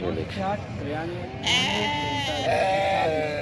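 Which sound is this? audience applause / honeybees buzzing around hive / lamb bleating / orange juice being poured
lamb bleating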